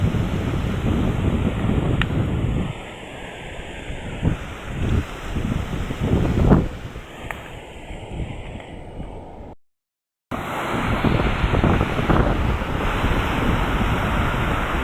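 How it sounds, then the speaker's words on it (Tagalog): Very strong typhoon winds from Typhoon Crising roar and buffet the microphone continuously, mixed with crashing surf, with gusts swelling and easing and a brief dropout near the middle. "Napakalakas ng hangin guys."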